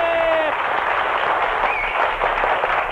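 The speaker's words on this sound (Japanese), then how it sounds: "拍手どうぞ。" Steady applause from a Japanese TV studio audience, moderately loud and continuous, with a brief voice at the start.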